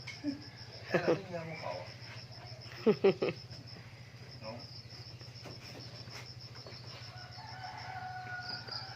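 Chickens cluck in short bursts outdoors over a steady drone of crickets, a few close calls early on, then faint scattered clucks against the insect hum.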